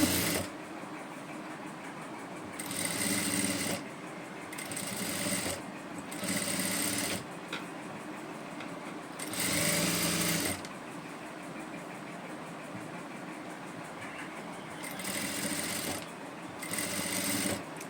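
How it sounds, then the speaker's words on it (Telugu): A sewing machine stitches piping onto a blouse back neck in repeated bursts of steady whirring, close and clear, separated by short pauses and quieter handling. "మీరు కుట్టేటప్పుడు అటు సైడు ఇటు సైడు ఒకసారి క్లాత్ చూసుకుంటూ కుట్టాలన్నమాట."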